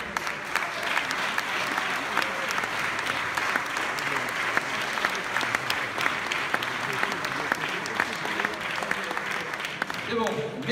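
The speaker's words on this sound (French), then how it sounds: "Un tonnerre d'applaudissements pour Willow et Beryl, s'il vous plaît." Sustained, dense applause fills a hall at a French championship award ceremony in 2017, with crowd noise underneath and a voice emerging briefly near the end.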